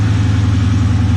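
A Dodge Challenger V8 idles with a steady, deep exhaust rumble, close and loud with an even low pulse throughout.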